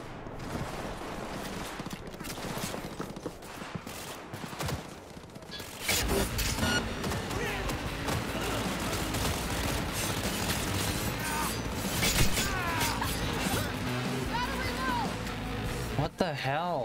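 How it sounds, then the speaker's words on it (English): Bursts of Cyberpunk 2077 gunfire and mechanical clatter run beneath steady talking, growing louder and busier partway through. "I hear gunfire."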